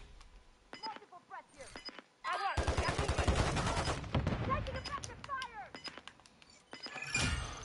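Video game gunfire in a tactical shooter, bursts of rapid automatic shots and single cracks, with a dense sustained volley in the middle, under excited voices of players talking over team chat.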